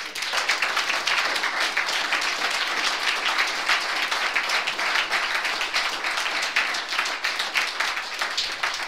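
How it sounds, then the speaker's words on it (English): An audience applauds a speaker named Joe at the end of his talk: dense, steady clapping from many hands, loud and sustained for about nine seconds with no voices over it. "Let's give another big round of applause for Joe."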